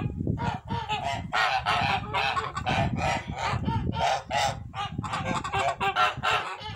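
A flock of young geese honks continuously, with many overlapping calls close by in a dense, steady chorus, with the adult parent flock also nearby.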